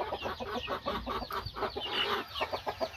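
Native chickens cluck in quick, repeated bursts close by, a lively rhythmic chatter from the flock with no speech.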